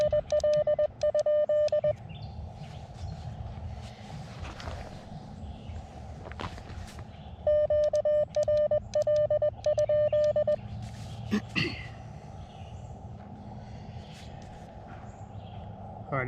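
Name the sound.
Morse code CW side tone from an Elecraft KX2 radio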